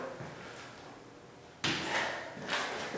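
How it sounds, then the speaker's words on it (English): A door is pulled shut indoors before floor sealer is cut in: a faint shuffle, then one sudden sharp thump as it closes, followed by a brief rattle and a settling rustle. "So I'm gonna first close the door."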